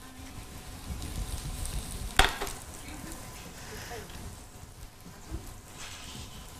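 Onions sizzle and fry in a pan as sweet potato gnocchi is being prepared, a steady crackle broken by one sharp clatter of a utensil midway, with faint kitchen sounds and brief talk around it.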